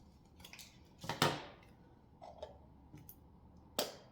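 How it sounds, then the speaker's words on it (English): Scissors trim paper into a small circle for a mini snowman snow globe, giving several quiet, close snips in an irregular rhythm with short pauses between cuts. "then it's just a little bit easier to trim it in a circle"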